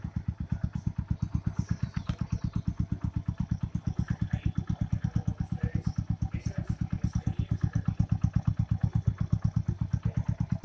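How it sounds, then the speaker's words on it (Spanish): A Honda Eco Deluxe motorcycle engine idles with a fast, even putter, steady and close, ticking over without revving. "más duro suena una nevera nueva que esta moto"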